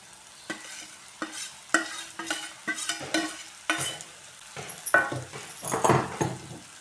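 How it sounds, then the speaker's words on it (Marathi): Roasted gram flour and cluster beans are stirred into a frying masala, making repeated scraping and stirring strokes with soft sizzling underneath, close and uneven in rhythm. "आता आपल्याला त्याच्यामध्ये टाकायचे आहे आपण ही बेसन आणि गवार भाजून घेतलेली."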